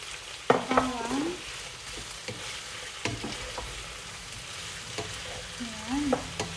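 Garlic sautéing in a pan for tinola while being stirred, a steady close sizzle with scattered scraping taps of the utensil against the pan.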